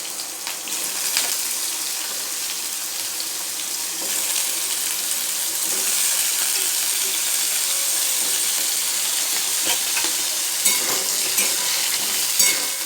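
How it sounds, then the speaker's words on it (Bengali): Potatoes dropped one by one into hot oil in a wok after cauliflower, a bright continuous sizzle with clinks and stirring, steady and close with no talk. "এই যে এবার আমি এক এক করে আলুগুলো দিয়ে ভেজে নেব।"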